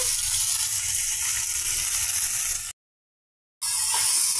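Long-cut ivy gourd pieces fry in a pan with tempering spices and curry leaves, giving a steady close sizzle that drops out briefly before resuming.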